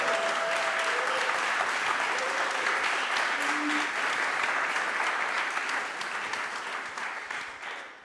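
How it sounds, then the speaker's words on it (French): Audience applause at a Paris demo day for part-time web development students, a dense, steady wash of many hands clapping throughout, loud and sustained, easing slightly toward the end. "Donc vous pouvez les applaudir aussi."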